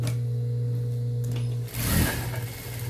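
A sewing machine stitches fabric with a steady, close mechanical hum and a rapid, even needle rhythm. Near the end the pitch shifts briefly with a short surge.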